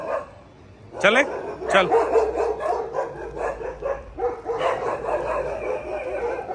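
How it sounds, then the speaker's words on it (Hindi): Several dogs bark outdoors in bursts, sharp barks and yips mixed with a short whimper, fairly close, while people talk over them. "डॉग्स उधर भी हैं इधर भी भौंक रहे हैं"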